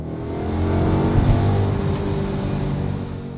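A 2012 Audi S5's 4.2-liter V8 revs steadily and loudly, a deep throaty rumble that swells slightly and holds for a few seconds.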